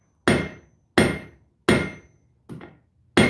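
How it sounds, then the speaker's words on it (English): Five sharp, ringing hammer blows strike a blade on the anvil at a forge while the smith flattens its wings, evenly spaced and loud with quick decays, no talking between strikes. "I'm going to flatten these wings out of this blade by pulling the hammer towards me."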